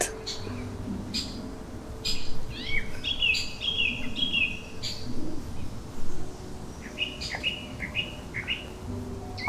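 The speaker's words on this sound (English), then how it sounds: "just hear the birds going crazy? Singing their songs." Birds in a park chirp and trill in bursts over a steady outdoor hum, with a murmur of voices in the background and bright calls clustering midway and near the end.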